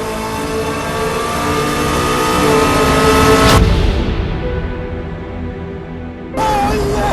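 A BMW M3 track car finishing a lap on a circuit, its engine loud and close, revving hard and climbing in pitch, then cutting off sharply to a quieter coast before another burst of revving near the end.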